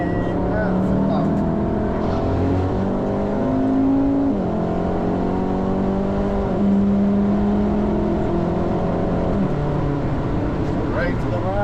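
Car engine on a Nürburgring Nordschleife trackday lap, revs climbing and falling through gear changes in a loud, continuous in-car drone with a driver talking over it throughout.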